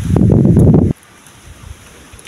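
Strong wind buffets the microphone in a loud, roaring gust lasting about a second, then drops to a faint, steady breeze while a large kite flies.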